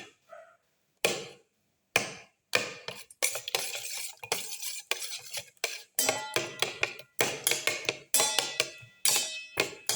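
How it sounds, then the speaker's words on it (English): Spoon or spatula scraping and knocking against a pan while tomato pieces are crushed and mixed for a black pepper mustard leaf omelette, sharp irregular clanks and scrapes in quick bursts with short pauses, no talk. "Crush the tomato pieces while mixing."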